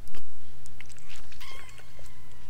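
A pet cat close by gives a short meow with a few small mouth sounds, over a steady low hum.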